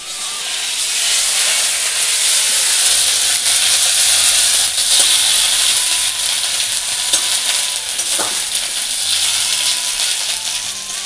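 Cumin seeds, bay leaf, dried chilli and ginger-cumin paste sizzle steadily in hot oil, a loud continuous frying hiss with faint stirring clicks throughout, no voices.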